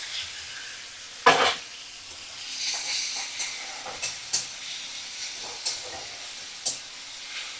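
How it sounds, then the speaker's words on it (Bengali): Prawns coated with salt and turmeric fry in a pan over a medium flame, giving a soft, steady sizzle broken by sharp pops and clinks as they are stirred and turned. "এই যে নুন আর হলুদ মাখানো চিংড়ি মাছগুলোকে দিয়ে দেব, ভাজা করে নেব"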